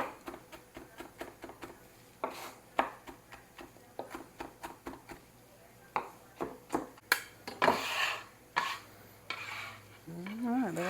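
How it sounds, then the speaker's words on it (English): A kitchen knife chops vegetables finely on a board, giving quick rhythmic taps in irregular bursts, close and fairly crisp, with a few louder knocks and brief gaps between runs. "I do want these chopped fairly fine."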